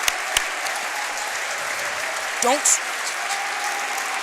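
A crowd at a boys varsity high school basketball game gives a warm, steady applause for a veteran coach, continuous clapping in a large gym, with a brief whistle and a few sharp knocks over it.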